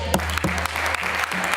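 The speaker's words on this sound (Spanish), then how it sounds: "Y usted les acompaña y aplaude." Applause in the regional parliament chamber of the Cortes de Aragón during a plenary session, a dense continuous patter of many hands held steadily throughout with a low hum underneath.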